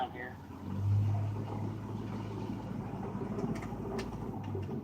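A pickup truck engine idles with a low, steady hum and a brief swell as the vehicle turns around in the evening, with someone talking over it.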